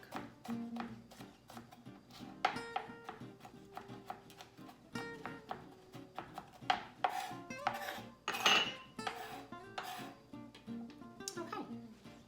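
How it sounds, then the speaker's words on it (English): A knife minces garlic on a cutting board in a home kitchen, with quick, uneven, close taps and clicks that come in bursts. "you're gonna tuck your fingers and mince your garlic"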